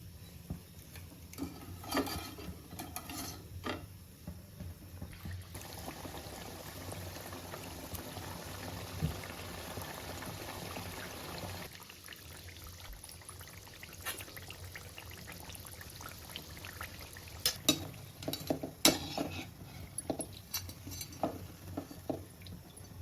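Chakli coils fry in hot oil in a pan, a soft continuous bubbling sizzle with scattered faint clicks and pops, fairly quiet throughout.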